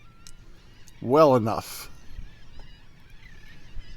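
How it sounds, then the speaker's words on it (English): Gulls cry out along the Rockport, Texas coast in a brief, loud burst of honking calls, set against steady wind noise with a voice speaking briefly. "the seagulls are going nuts in the distance"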